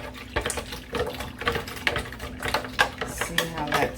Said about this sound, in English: Okay, so I'm going to stir that up.